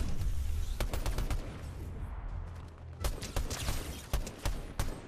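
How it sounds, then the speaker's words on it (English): Rapid bursts of gunfire in a video game shootout, sharp cracks stacked into loud volleys at the start, a brief lull, then more clustered shots near the end. "He was getting shot from somewhere else."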